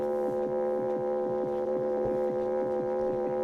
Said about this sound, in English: Heart beating, open heart surgery.